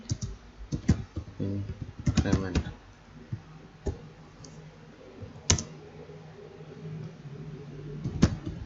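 Code being typed on a computer keyboard, with scattered clicks and short key bursts, close and moderately loud, under intermittent talking.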